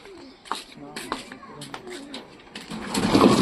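Soft pigeon coos mixed with a person speaking nearby, followed by a burst of rustling noise.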